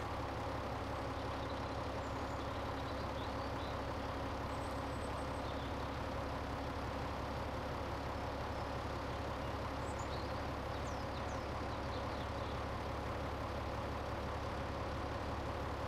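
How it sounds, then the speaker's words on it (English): A tractor engine idles in The Walking Dead video game with a low, even, rumbling chug that continues without a break, fairly quiet and steady, with no voices. "Can someone turn off that tractor before more come?"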